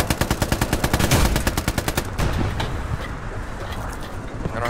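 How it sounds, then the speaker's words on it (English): Automatic gunfire in the Hell Let Loose video game, a fast regular burst of shots in the opening seconds, then scattered heavier blasts and rumbling battle noise, with no talk. "something just shot at us from Windmills"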